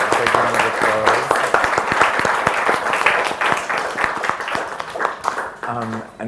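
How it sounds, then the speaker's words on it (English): Audience applause at the close of a talk at the ECH 2025 event, a dense, steady patter of many hands clapping that holds for several seconds and thins slightly toward the end. "Big round of applause"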